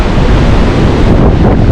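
A storm at the beach in Lazarevskoye brings loud, continuous wind buffeting the microphone over crashing sea waves, a dense, close roar with no speech.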